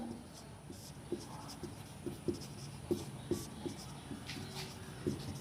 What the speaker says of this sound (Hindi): तो इसकी परिभाषा हम लोग लिख लेते हैं, डिफिनेशन हम लोग लिख लेंगे यहाँ पर।